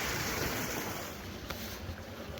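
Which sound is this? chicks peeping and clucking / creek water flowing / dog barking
creek water flowing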